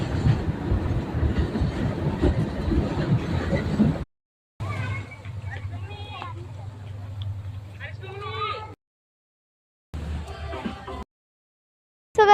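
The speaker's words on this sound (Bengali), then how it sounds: "আমরা টাইগারের ট্রেনে উঠে পেরেছি" Riding aboard a tiger-themed train: rumbling wagon noise with rhythmic rattling under frequent talk, broken by short silent gaps.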